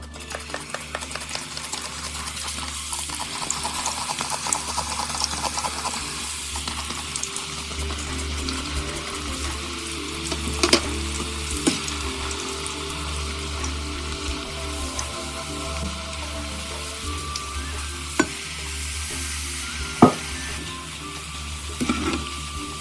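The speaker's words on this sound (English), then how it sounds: "Just stir them so they don't stick." Plantain chips frying in hot oil while being stirred give a steady, close crackling sizzle throughout, with a few sharper clinks and pops from the stirring and no talking.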